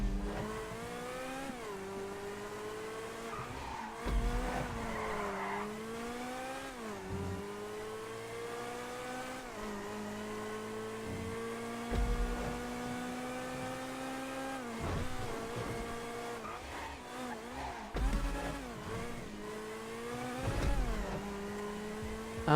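Entity XF supercar in GTA 5 Online racing along, its engine revving hard with rising and falling gear-shift sweeps, loud and continuous across the run with no talk.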